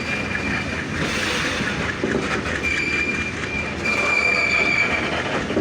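Long train hauled by a WDM-3D diesel locomotive rolling past at Santahar Junction, continuous rumbling wheels with faint rhythmic clatter and a thin metallic wheel squeal, steady and fairly close throughout.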